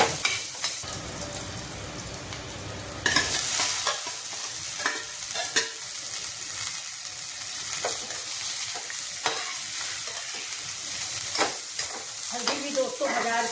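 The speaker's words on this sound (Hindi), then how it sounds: "अब डालेंगे हरा मिर्च।" Green chillies hit hot oil with cumin in a pan and set off a loud burst of sizzling, with ongoing crackling frying and stirring scrapes close by for a home-cooked fasting meal; no talk.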